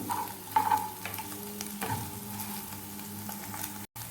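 Eggs are scrambled and stirred in a frying pan, sizzling steadily with scraping strokes of a utensil against the pan, close and continuous.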